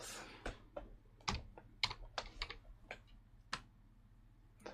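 Close, fairly soft typing on a computer keyboard meant to be quieter, with scattered clicky keystrokes in uneven bursts over a low steady background hum and no talking.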